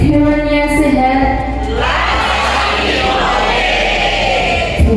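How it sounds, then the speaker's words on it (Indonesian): Audience applause and cheering break out at a public-service program launch, a broad wash of clapping and shouts swelling after a brief tonal lead-in and holding steady, loud and close, with voices mixed in. "Tepuk tangan."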